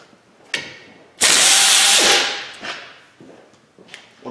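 Power tools at work removing a brake caliper from a vehicle: short ratcheting clicks, then a loud, near burst of an impact gun lasting about a second, followed by softer mechanical clatter.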